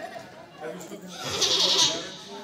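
A person imitates a donkey's bray with a strained, bleating vocal call that rises toward the end, surrounded by people talking and laughing.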